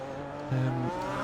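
Formula race cars in a racing video game, an engine tone holding steady and then swelling briefly as one car closes in, steady whine with no talk, moderately loud.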